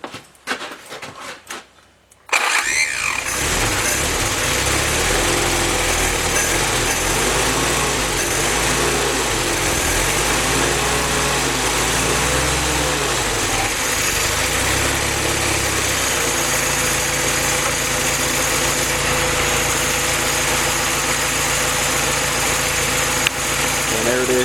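After a few seconds of quiet handling noise, a Willys L-head engine with a freshly broken-in camshaft cranks and catches, then settles into a steady, even idle that runs on.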